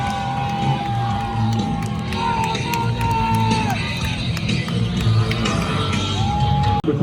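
Away fans of Fresno State cheer and yell in a stadium at a wet, windy college football game against San Jose State, a continuous roar of the crowd with horn-like tones and voices mixed in.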